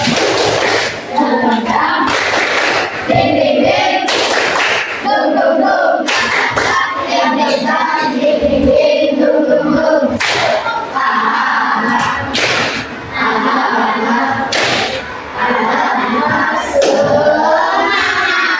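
Fifth-grade classroom doing a rhythmic spirit clap, loud patterned bursts of children's hands with thumps and shouted chanting, repeated in several rounds.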